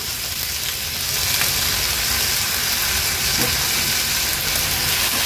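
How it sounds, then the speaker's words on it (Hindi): Carrots and green peas sizzle in a pan of half-cooked onion, a loud, steady frying hiss that runs without a break and with no talk over it. "नंतर ह्यात हे आपण गाजर आणि मटर जे धुतले ते ऍड करूया"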